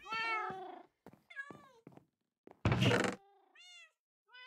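Cats in a video game give several distinct meows, some drawn out and some short, with one loud dull thump in the middle and quiet gaps between the calls.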